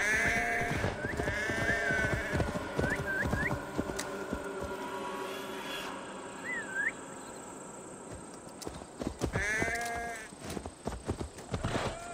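Sheep bleating in Assassin's Creed Valhalla, several wavering cries early and late among clip-clop hoofbeats and outdoor game ambience, fairly close and loud.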